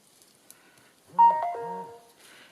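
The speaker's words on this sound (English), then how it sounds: "Sorry about the phone." A phone ringtone goes off indoors during a craft session, a short tuneful electronic chime of a few rising and falling tones, moderately loud, alone against quiet background.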